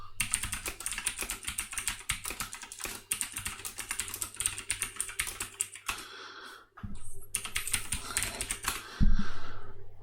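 Rapid, steady keystrokes on a computer keyboard entering commands into an Ubuntu terminal, close and clear, with brief pauses between bursts and a louder clack near the end.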